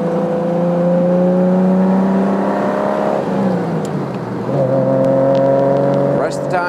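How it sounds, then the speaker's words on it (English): A 1972 Triumph TR6 convertible with overdrive and performance upgrades drones loudly and steadily while cornering, its engine note sagging midway as revs drop and then settling back into a strong, even hum. "This car is great on these turns."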